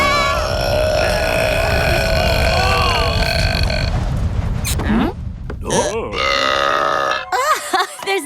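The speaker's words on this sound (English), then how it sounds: "You call that pathetic sound a burp?" A cartoon character lets out a long, loud burp during a burping contest, rumbling and wavering, with cartoon voices speaking and other comic noises around it.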